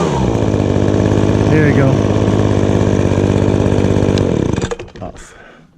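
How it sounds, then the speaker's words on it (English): Echo gas leaf blower engine running loud and close, a steady buzzing roar that cuts off near the end and sputters down, with someone speaking briefly over it. "is the Echo leaf blower, power blower."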